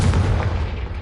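Blasting Confringo spell in Hogwarts Legacy: a loud, deep, rumbling explosion that fills the whole second, heavy in the low end and slowly tailing off.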